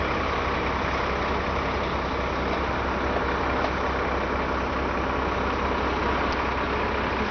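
A cement truck idles at a residential construction job site, its engine a steady low rumble with broadband mechanical noise holding constant and unbroken throughout, fairly close and without any talk over it.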